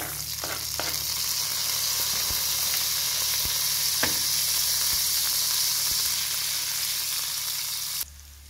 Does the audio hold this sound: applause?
no